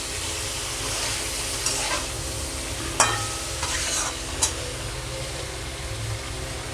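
Rui fish head cooking in a pan with Malabar spinach, tomato, chili powder and turmeric, sizzling steadily under a spatula that scrapes and stirs, with a few sharp knocks against the pan.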